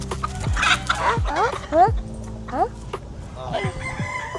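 Chickens cluck and a rooster gives rising calls close by in a backyard coop, a rapid series of sharp vocalizations with background farm noise.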